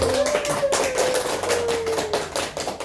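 Rhythmic hand clapping in a school group cheer, a steady run of sharp claps repeating close and loud for several seconds with a sustained tone running underneath and no talking.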